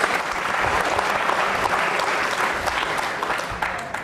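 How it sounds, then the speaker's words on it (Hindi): Loud, sustained applause from a studio audience for a young girl on a televised program about cow devotion, a dense continuous wash of clapping close by. "तालियां जोरों से बजाइए इस बच्ची के"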